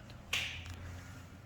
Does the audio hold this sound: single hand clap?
yes